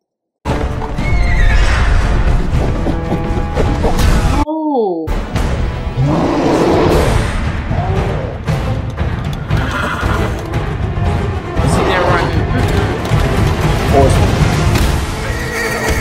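A horse neighs loudly several times amid clattering hooves and outdoor noise, with people talking and exclaiming over it close by.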